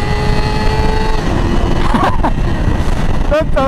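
A 2020 Yamaha R6 motorcycle with its stock exhaust system runs as a steady, muffled engine drone under loud wind and road rush, with a voice briefly breaking in near the end.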